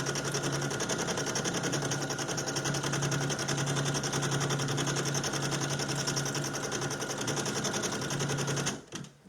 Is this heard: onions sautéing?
no